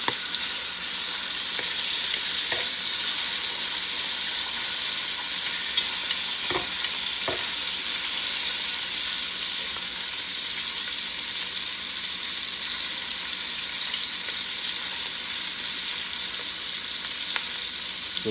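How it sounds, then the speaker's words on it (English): Bacon sizzling in a pan while it crisps for southern fried cabbage, a loud, steady, hissing fry that runs without a break, with faint clicks and pops scattered through it. "all we're doing is like cooking bacon. It's crispy."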